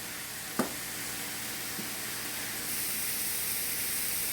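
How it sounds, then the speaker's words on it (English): Cauliflower fried rice sautés in a pan with a steady, soft sizzle, a faint clink or two of a utensil early on, and the hiss growing slightly brighter toward the end. "So now I'm going to probably let this saute for another 2 to 3 minutes"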